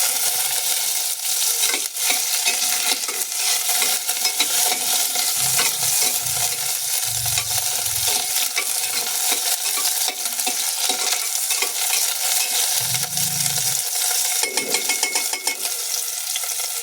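Ginger and onion sautéing in a hot pan for Filipino chicken tinola, a steady close sizzle with stirring scrapes and occasional clinks of a utensil against the pan throughout.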